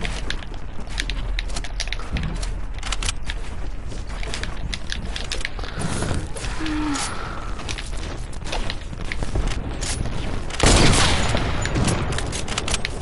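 Continuous Fortnite combat noise with dense overlapping gunshots and impacts, loud and busy throughout, with a heavier burst near the end.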